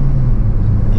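Peugeot 408 with an AL4 automatic gearbox pulling hard under acceleration in sport mode, a steady close engine drone with the pitch shifting near the end as the gearbox changes up on its own.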